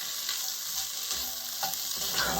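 Beef stew with softened onions and browned meat cooks in a pot, giving a steady, close sizzling and bubbling hiss with no talking.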